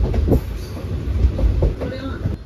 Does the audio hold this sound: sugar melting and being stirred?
no